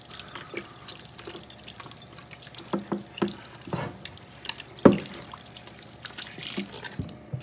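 Cold tap water runs over a raw Thanksgiving turkey being rinsed in a sink to knock off sage leaves. There is a steady wash of water with scattered splashes and a few louder knocks near the sink, and no talking.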